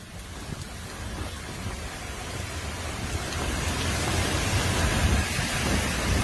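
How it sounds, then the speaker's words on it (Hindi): Heavy rain pours steadily during flooding, a dense, even hiss that swells slightly louder toward the end, with no voices. "बारिश इतनी तेज थी कि वहां कुछ भी दिखाई देना मुश्किल हो गया"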